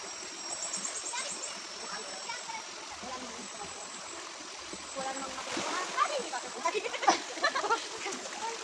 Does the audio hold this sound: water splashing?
yes